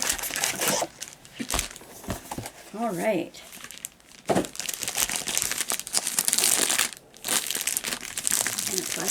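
Plastic crinkles and rustles loudly up close in irregular bursts, with a brief spoken remark partway through.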